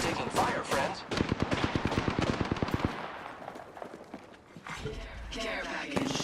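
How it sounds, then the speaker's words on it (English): Video game gunfire rattles in rapid automatic bursts, steady and close for the first few seconds, then fades into quieter scattered shots and ambient game noise, with bursts returning near the end. "I am taking fire, friends."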